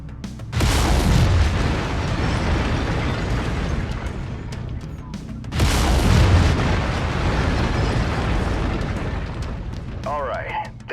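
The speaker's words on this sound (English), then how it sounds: "Lasers are mapped to Weapon Group 2. Fire them when ready." Mech lasers firing in the video game Mechwarrior 5 Mercenaries, two loud sustained blasts each lasting several seconds with a booming onset, followed by a short electronic chirp at the end.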